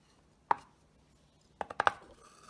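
A knife chops garlic on a cutting board: one sharp tap, a pause, then a quick cluster of three or four close, crisp knocks in a quiet room.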